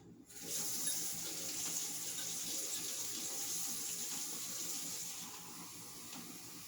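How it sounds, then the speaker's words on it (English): Warm water running from a sink faucet into a cup, a steady close rushing splash that starts abruptly and continues evenly, easing slightly toward the end, with no talking. "now we're going to go ahead and fill it up with warm water"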